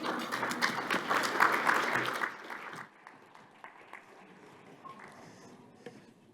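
An audience at a soybean conference breaks into dense, fairly loud applause for about two and a half seconds, then it thins to scattered claps as it dies away.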